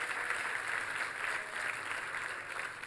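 A church congregation claps together for God during a sermon, a steady, fairly faint wash of hands with no individual claps standing out.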